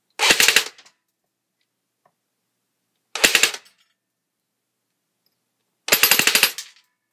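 A G&G UMP .45 airsoft gun fires full auto in three short bursts, each a rapid rattling string of shots, loud and close, with silence between bursts.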